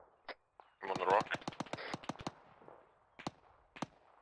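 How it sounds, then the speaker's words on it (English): Grenades and gunfire in an Arma 3 military battle: a rapid burst of sharp cracks and thumps, then scattered single reports, with radio chatter between shots. "I'm hearing grenades. Who's firing grenades?"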